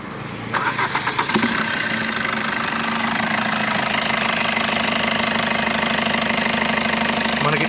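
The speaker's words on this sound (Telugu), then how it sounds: "ఒకసారి స్టార్ట్ చేస్తాను చూపిస్తాను చూడండి" A used Maruti Brezza's engine cranks briefly with rapid pulsing, then catches and settles into a loud, steady idle that holds unbroken to the end, heard close up.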